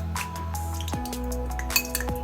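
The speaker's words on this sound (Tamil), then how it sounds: "பிரெட் க்ரம்ஸில் போட்டு நல்லா மிக்ஸ் பண்ணுங்கள்." Cauliflower pieces being tossed and coated in bread crumbs for a crispy fried snack, giving soft squishy rustles with a few light clinks and taps against the bowl, close and moderately quiet, with no talking.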